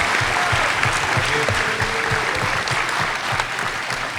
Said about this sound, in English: Let's give them a big round of applause again.